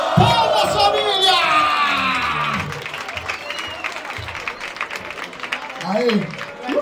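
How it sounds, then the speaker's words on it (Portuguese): A loud crowd at a rap battle final cheers and applauds, with whoops and shouts rising over a dense wash of clapping that fades into scattered noise and murmuring. "Palmas, família!"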